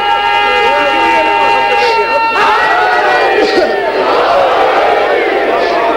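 A large crowd at a religious majlis gathering in Lahore chants slogans loudly together, many voices blending into a strong, continuous roar of sustained tones and shouting throughout.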